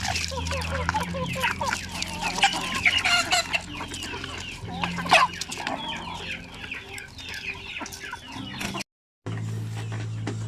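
Native chickens cluck steadily and close by, with many birds overlapping in a busy farmyard chorus that goes on throughout, broken briefly by a short drop near the end.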